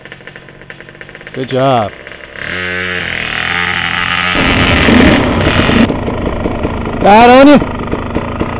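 A KTM 50 dirt bike in wet, slick conditions revs up with bursts of throttle, its small engine buzzing loud and close, rising and falling, while voices talk over and between the revs.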